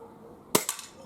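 A single sharp crack from a Browning Buck Mark Magnum .22 caliber pistol, close and loud, with a short echo trailing right after it.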